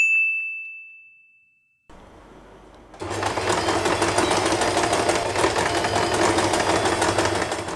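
A sewing machine stitches fabric for a hair bow, starting after a fading ding and a brief quiet spell, then running loud and continuous at close range until the end.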